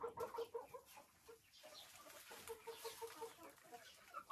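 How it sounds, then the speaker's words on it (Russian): A hen in a backyard chicken coop clucks close by in a run of short, rhythmic calls, pausing briefly midway before resuming, moderately loud with no talking over it, around egg collection time. "Красивая курочка какая."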